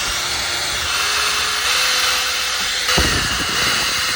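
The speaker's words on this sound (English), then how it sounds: "I have my pilot hole drill, and then I have my impact to zap in the bolts" A power drill bores pilot holes during work on a 2024 Mustang GT, whining steadily and fairly close, with a sharp clunk about two-thirds through and the motor continuing after.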